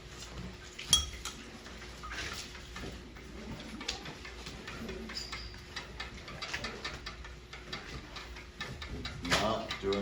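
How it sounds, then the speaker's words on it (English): Faint clinks of a utensil stirring a solution inside a glass container, small taps and rattles repeating at close range over a steady background hum, with a voice speaking briefly. "I give it a good stir"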